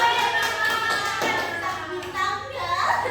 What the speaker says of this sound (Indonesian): Beri tepuk tangan dulu untuk batang.